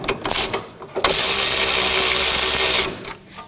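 Ratchet wrench clicking rapidly as it snugs 18mm nuts on front sway bar links of a 2014-2020 Acura MDX, a few short bursts then a steady close, loud run of ratcheting.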